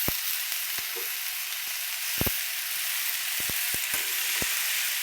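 Red chili powder roasts in a hot pan with a loud, constant sizzle, punctuated by sharp spatula clicks and taps against the metal.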